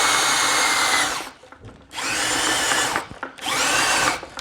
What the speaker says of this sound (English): you can hear the drill is having a hard time because we're tightening up on the skin